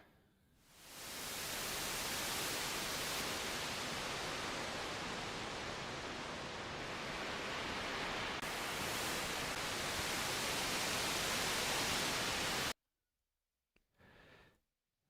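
A guitar Syrup 2 effect pedal produces a dense, loud white-noise hiss that swells in after a second, holds steadily for about twelve seconds, then cuts off abruptly, followed by a brief faint burst.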